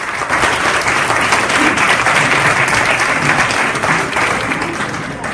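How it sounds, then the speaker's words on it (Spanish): Loud, sustained applause from a large audience at a Tecnológico de Monterrey panel event, dense steady clapping filling the whole stretch and easing slightly at the end. "Así que a continuación, por favor, un fuerte aplauso."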